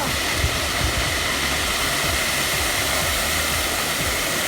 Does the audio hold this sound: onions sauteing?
no